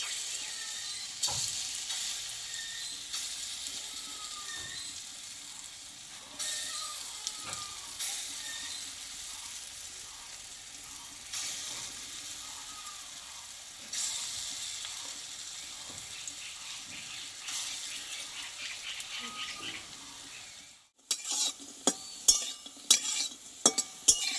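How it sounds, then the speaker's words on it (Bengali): Lentil fritters fry in oil with a soft, steady sizzle and occasional spoon scrapes. Near the end, metal utensils clink sharply against the pan as the fritters are lifted out. "বাকি ডালের বড়াটা আমি একইভাবে আমি ভেজে নেবো"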